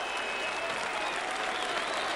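A rugby league crowd at a 1993 Whitehaven versus Workington match cheers and applauds after a try, a dense, continuous wash of clapping and cheering that stays steady throughout.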